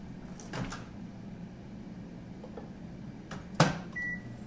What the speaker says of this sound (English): I'm going to microwave it for 2 minutes